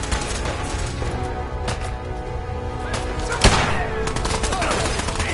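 Gunfire in Fallout 4 crackles as a steady loud fusillade of rapid shots with a sharp heavy impact partway through, dense and continuous.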